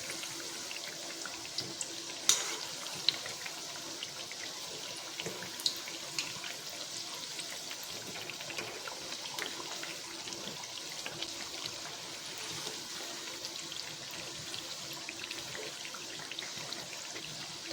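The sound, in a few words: sweet mathri frying in oil on medium gas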